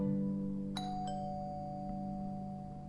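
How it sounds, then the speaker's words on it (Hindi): A two-tone doorbell chimes indoors at a home, two bright ding-dong tones about a third of a second apart with a lingering ring that fades over steady low background hum. "घंटी बजी है तो कोई आया ही होगा।"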